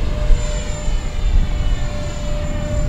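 An RC ducted-fan Su-47 model jet climbs at full throttle, a loud, steady rushing roar with airy broadband noise that holds for the whole stretch, with no voices over it.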